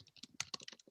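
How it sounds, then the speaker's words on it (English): Typing on a computer keyboard during a web development lesson, a quick run of close, crisp key clicks in an uneven rhythm, heard alone without talk. "I can start typing here."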